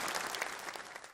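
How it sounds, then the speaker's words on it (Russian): Brief burst of applause from an audience at a televised event, dense steady clapping throughout a short moment. "Аплодисменты."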